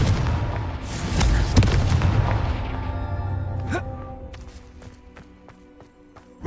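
A Confringo explosive spell blast in the video game Hogwarts Legacy: a booming burst with a sharp crack, then a rumbling tail that fades, with a few faint ringing tones near the end.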